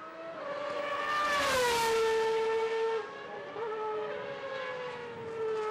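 A Superleague Formula race car at speed on track during qualifying, its engine a loud, sustained tonal whine that climbs, dips and steadies as it passes through corners, heard alone without talk.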